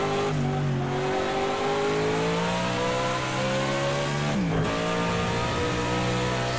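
Audi V8 Quattro race car from 1991 DTM racing in Project CARS 2, its engine revving loud and continuous from start to end, pitch climbing steadily, then a sharp drop at a gear shift before building again.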